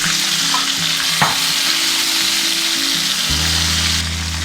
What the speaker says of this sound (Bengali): এবার আমি ওই একই তেলে ভেন্ডিটা একটু নুন আর হলুদ দিয়ে ফ্রাই করে তুলে নিচ্ছি।